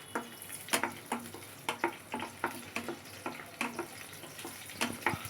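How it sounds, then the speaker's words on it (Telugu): Green chillies frying in hot oil in a pan, a steady close sizzle broken by frequent sharp spits and pops at an irregular, quick rhythm, with no talk. "పచ్చిమిర్చి వేయించేప్పుడు జాగ్రత్తగా వేయించాలి, లేదంటే మన మీదకి తూలుతూ ఉంటాయి."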